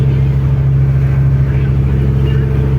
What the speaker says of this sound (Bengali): ওই যে স্পিড বোট যাচ্ছে